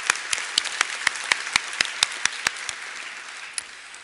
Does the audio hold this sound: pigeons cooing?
no